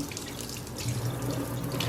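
A kitchen faucet runs steadily on hot into a sink, a continuous close hiss of flowing water at moderate level for about two seconds, with no voices.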